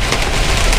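Hail pelting a parked vehicle during a storm, a loud dense rattling patter of impacts filling the short moment with no talk.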